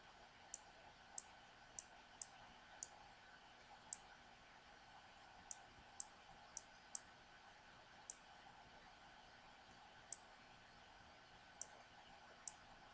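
A computer mouse clicks sharply and sparsely, about a dozen isolated clicks spaced irregularly against a quiet, faint room hiss.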